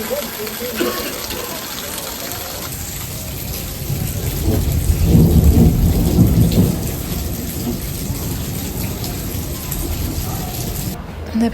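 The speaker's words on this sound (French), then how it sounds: "en attendant que la pluie s'arrête" Heavy rain pours steadily throughout, with a deep rumble of thunder swelling in the middle of the storm, loud and continuous.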